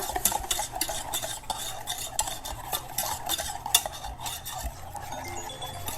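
Butter is whisked into hollandaise sauce, a fast steady run of metal whisk scrapes and clinks against a bowl, close and fairly quiet with no talking.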